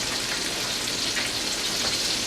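Cauliflower frying in hot oil gives a steady, close, even sizzle and crackle that holds at a constant level throughout, with no voices.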